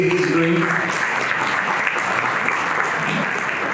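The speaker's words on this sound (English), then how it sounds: "So big round of applause again" An audience at a panel discussion on therapeutics and clinical research applauding, a dense, steady round of clapping from many hands filling the room throughout, with faint voices underneath.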